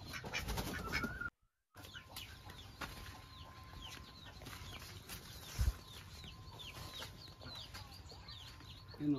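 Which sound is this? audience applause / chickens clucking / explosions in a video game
chickens clucking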